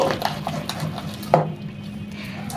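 Gram flour (besan) batter for boondi whisked in a bowl, giving rapid rhythmic tapping and scraping strokes, fairly close, with one sharper knock partway through.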